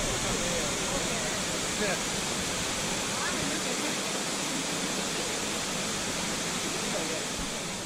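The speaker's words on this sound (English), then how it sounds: "The waterfall at E Limon drops 130 feet into the beautiful emerald pool below and is an awe-inspiring sight." Waterfall at El Limon dropping about 130 feet into an emerald pool, a loud, steady broadband roar of falling water heard up close without letting up.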